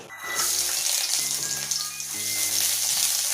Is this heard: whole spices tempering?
yes